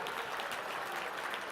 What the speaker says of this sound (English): Can we get a round of applause for Dancing with the Stars celebrity, Buzz A